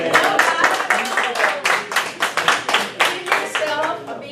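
Members of an improv meeting group clap together in a burst of close, distinct handclaps with an uneven rhythm, loud and continuous throughout.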